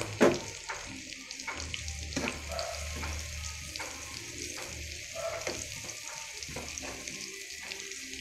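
Onion and garlic sautéing in a pan with luncheon meat to follow, giving a continuous crackling sizzle with scattered sharp pops and the scrape of stirring throughout, no voices.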